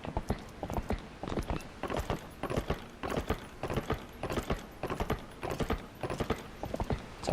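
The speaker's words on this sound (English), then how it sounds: "Sorry, I just like hearing the hooves on the thing." Horse hooves clip-clop in a steady, rapid trot in The Legend of Zelda: Twilight Princess HD, loud and continuous with even rhythmic beats and no talk over them.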